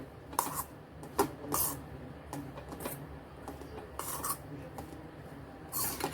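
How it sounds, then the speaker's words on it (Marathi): A spoon scrapes and clinks against a bowl while a spice mixture with chaat masala is stirred for wheat-flour paneer cheese bati, in irregular soft rubbing strokes with a few sharper taps, close and fairly quiet. "आता हे छान आपण परत मिक्स करून घेऊया"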